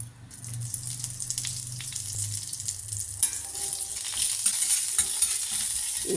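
Mustard seeds, dried chili and curry leaves sizzle and crackle in a teaspoon of hot oil while preparing a banana poriyal; a steady close frying hiss with scattered sharp pops, growing busier toward the end.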